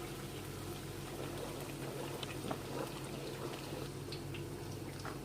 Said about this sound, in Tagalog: kumukulo na po siya